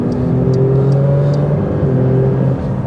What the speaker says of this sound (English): let's now take out the Porsche GT3 RS, the 992, for a drive here on the Autobahn